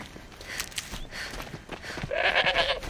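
A goat bleats in the Horizon Zero Dawn video game, a couple of short wavering bleats over soft footsteps and ambient game sounds, closing with a louder, longer bleat.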